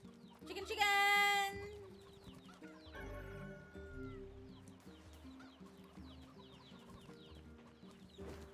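Chickens in Nier Replicant cluck and squawk, with a loud, close burst of calls early on and softer clucks that follow over game music.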